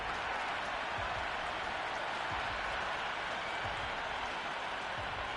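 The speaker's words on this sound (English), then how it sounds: "The crowd are really getting quite raucous." Crowd at a T20 World Cup cricket match in the Cricket 26 game, Nepal against Scotland at Wankhede, applauding and cheering in a steady, dense roar with no break.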